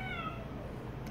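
A cat gives a single short meow, faint against a quiet indoor background.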